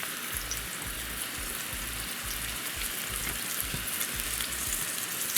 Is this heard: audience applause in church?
no